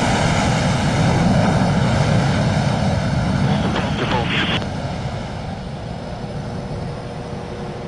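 Loud, steady jet-engine roar from a carrier aircraft that touches down past the arresting wires and powers back around, easing slightly toward the end.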